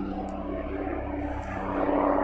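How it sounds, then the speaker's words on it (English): A helicopter flies overhead above a Victorian cemetery in Bristol, its engine a steady droning rumble that grows slightly louder toward the end, with no talking. "So here a helicopter above"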